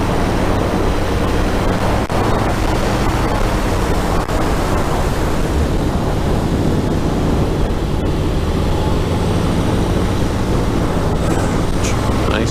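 A powered parachute engine in flight drones steadily throughout, a loud continuous roar mixed with rushing wind and no clear talk.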